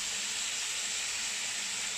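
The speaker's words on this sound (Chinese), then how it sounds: "然后将排骨煎香，大约煎一分钟" Pork ribs sear in a hot pan, giving a steady, close sizzle and hiss with no clear breaks.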